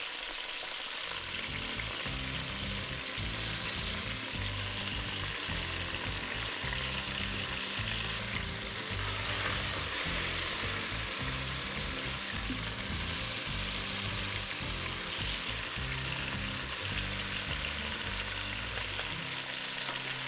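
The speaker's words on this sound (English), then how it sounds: "so I am searing all of the sides" Pork tenderloin searing in a hot pan, a loud, dense and continuous sizzle that holds steady for about twenty seconds, close up with no voices.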